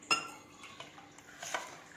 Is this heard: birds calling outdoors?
no